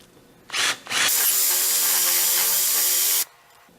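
Electric drill boring into wood for a birdhouse: two short whirring bursts, then a sustained, loud, steady drilling run of about two seconds before stopping abruptly, heard alone at close range.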